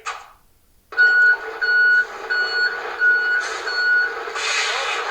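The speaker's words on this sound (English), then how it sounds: "It's either a garbage truck backing up" Reversing beeps from a garbage truck backing up, a steady run of evenly spaced electronic tones over a loud engine rumble, close and clear with no talk.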